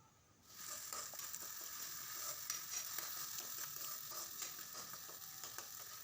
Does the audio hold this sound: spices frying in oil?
yes